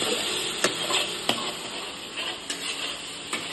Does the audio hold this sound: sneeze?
no